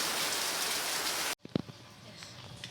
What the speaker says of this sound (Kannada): ಮಳೆ ಅಂತೂ ತುಂಬ ಜೋರಾಗಿ ಬೀಳ್ತಾ ಇದೆ